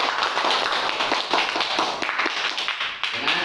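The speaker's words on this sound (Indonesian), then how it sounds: "Tepuk tangan untuk kelompok 2" A classroom group claps for the second student group, a dense burst of many hands clapping close by, continuous for a few seconds with no pause.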